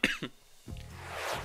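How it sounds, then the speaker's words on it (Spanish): One short, close cough bursts out from a person, a couple of sharp expulsions followed by a breathy rush of air. "Bueno, tengo un pelín de tos, un pelín."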